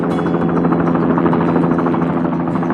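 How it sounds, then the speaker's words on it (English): A blue animated helicopter flying through a morning sky over a city, its rotor and engine making a steady, continuous buzzing drone at even loudness throughout, with no speech. "a blue helicopter glides gracefully through the morning sky."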